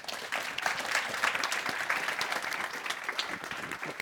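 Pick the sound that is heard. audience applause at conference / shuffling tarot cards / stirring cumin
audience applause at conference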